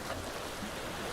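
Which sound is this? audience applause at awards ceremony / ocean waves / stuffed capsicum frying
ocean waves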